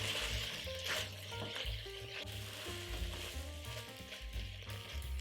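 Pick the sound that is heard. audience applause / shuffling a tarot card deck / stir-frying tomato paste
stir-frying tomato paste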